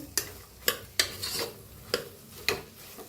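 A spoon scrapes a pan as coriander and spices roast in masala, with about six sharp, evenly spaced strokes over a soft, faint sizzle.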